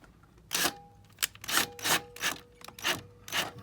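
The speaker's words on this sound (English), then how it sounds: "Run them in a little, back them out. Don't over torque them." Stainless steel screws are driven in and backed out on a jonboat during a trim tab install, giving six short, rhythmic grinding bursts of a few tenths of a second each, close and fairly loud.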